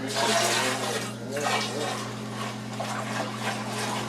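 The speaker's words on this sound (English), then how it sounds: "Can I pour the tea?" Brewed tea being poured into a larger vessel while making kombucha, a steady liquid splash and trickle running for several seconds over a constant low electrical hum.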